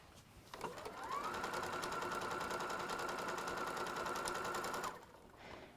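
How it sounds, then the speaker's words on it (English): A sewing machine runs steadily for about four seconds, stitching a quarter-inch seam with a guide foot on a fabric pouch. It is close, loud and continuous, with a brief start-up and a clean stop. "And now I'm just going to do a 1/4 inch seam."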